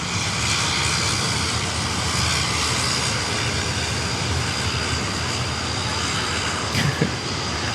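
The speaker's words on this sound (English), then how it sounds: "our New York service, the Qantas 787, the Qantas 3." A Qantas Boeing 787 airliner at Sydney Airport roars with a steady, loud, broadband engine rumble and whine that holds evenly throughout, without any talk over it.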